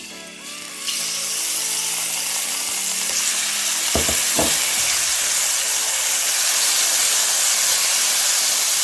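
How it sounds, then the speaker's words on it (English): Garlic hits hot oil in a wok for a spicy eggplant stir-fry and erupts into a loud, steady, hissing sizzle that continues throughout, with a couple of brief utensil knocks partway. "So we are ready to do our first thing we need to do is we're going to put our garlic."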